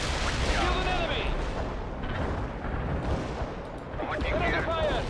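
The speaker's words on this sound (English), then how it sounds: "Enemy fire." Gunfire and artillery in the World in Conflict game, a dense, loud, continuous rumble of booms and distant blasts with whistling shell sounds sweeping through, steady for the whole stretch.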